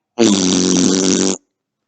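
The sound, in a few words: voice imitating a blown raspberry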